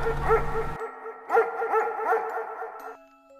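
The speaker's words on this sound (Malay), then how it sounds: "mereka terdengar bunyi salakan anjing yang sangat kuat" A dog barks loudly in a series of sharp yips and barks, some of them whimpering, over a little more than two seconds. The barking follows a brief burst of other sound.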